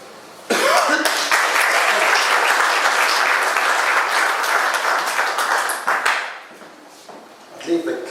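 An audience at an evening event with Trevor Abrahmsohn breaks into sustained, dense clapping that fills the room for several seconds, then thins out and fades, with a cough or two near the end.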